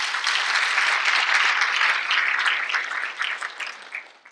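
Audience applause at a school district's state of the district address, a dense burst of clapping from a crowd that swells, then thins and fades out over a few seconds.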